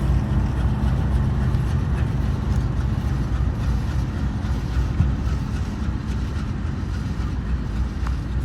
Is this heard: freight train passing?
yes